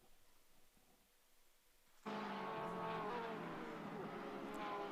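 Race cars roar around the Grobnik circuit during qualifying in an online sim racing series, a dense, loud engine wash that bursts in abruptly after a quiet opening and then holds steady with overlapping cars.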